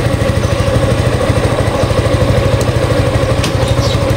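A Suzuki Gixxer FI motorcycle with a faulty speed sensor runs in second gear under throttle, its engine putting out a steady, loud, close-up mechanical thrum with a rapid firing pulse throughout.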